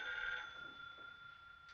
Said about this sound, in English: Not Yolanda's phone.